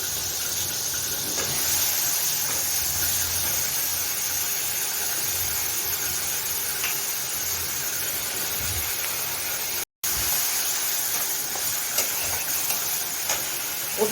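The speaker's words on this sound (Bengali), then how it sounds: "মশলা তেলে ফ্রাই হচ্ছে।" Spices frying in hot oil with a fenugreek tempering make a continuous, close hiss and crackle that runs throughout at an even level, broken once by a very brief dropout, with no speech.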